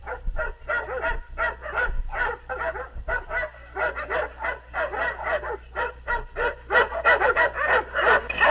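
Dogs bark in rapid, overlapping bursts, mixed with yips and whimpers, a busy continuous chorus at moderate distance.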